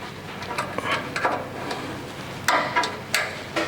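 A metal caption nut is levered into place with a key on an Isuzu D-Max bull bar fitting, giving a handful of sharp, close clicks and taps in irregular bursts.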